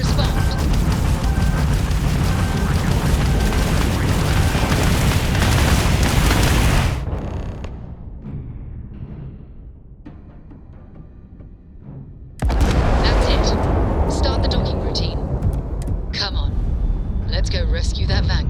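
Starfield spaceship weapons fire and explosions rumble in a dense, loud barrage, drop to a low hum for several seconds, then erupt again with sharp bursts and crackling blasts.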